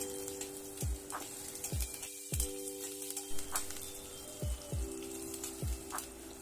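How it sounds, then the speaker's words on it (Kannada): Chopped green chillies and dried red chillies frying in hot oil, giving a soft, steady sizzle with faint crackles and a few low knocks from the pan, fairly quiet and close; no voices. "ಹಸಿರು ಮೆಣ್ಸಿಕಾಯಿ ಕೂಡ ಕಟ್ ಮಾಡಿ ಹಾಕೋತಾ ಇದ್ದೀನಿ ನಾನಿಲ್ಲಿ ಇದನ್ನು ಕೂಡ ಹಾಕ್ಕೊಂಡು ಸ್ವಲ್ಪ ಫ್ರೈ ಮಾಡ್ಕೊಳ್ಳೋಣ"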